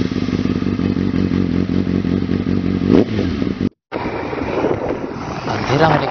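Motorcycle on a 2021 ride to Bhimashankar, Maharashtra, engine droning steadily with a rising rev midway, a brief dropout, then continued riding with wind rush and rattles, close and loud.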